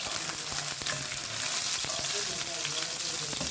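Onion sizzles steadily in a hot pan, a dense close crackle of frying with occasional stirring clicks over the continuous hiss.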